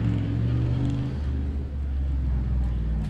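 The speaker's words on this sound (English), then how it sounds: "the VK45 turbocharged S14 drift car, rocket bunny kit" A deep, rumbling turbocharged VK45 engine in an S14 drift car idles and burbles steadily at close range, a low throaty drone with a slight flutter throughout.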